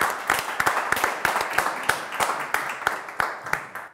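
Studio audience applause: a short burst of sharp, fairly close handclaps in an irregular rhythm, alone without talking, lasting a few seconds.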